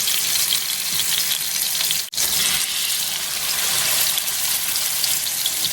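Homemade breakfast sausage fries in a hot skillet, a dense, even hiss of sizzling fat that runs close and steady throughout, cutting out for a split second partway through.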